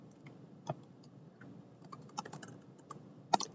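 Keys clatter on a computer keyboard in a quiet lecture setting, a short burst of light irregular taps with a few sharper strikes near the end, close and soft.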